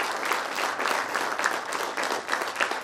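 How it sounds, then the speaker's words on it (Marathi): An audience at a college prize-giving applauds a student who placed third, with dense, steady clapping from many hands that fills the room evenly from start to finish. "जोरदार टाळ्या वाजवून तिचे आपण कौतुक करूया"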